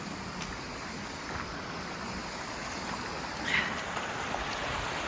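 A mountain stream on the Butlers Gulch hike rushes in a steady, even wash of water noise, close and continuous, with no voices.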